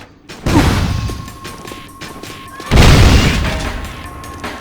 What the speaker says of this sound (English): Shoot the gun, Jack!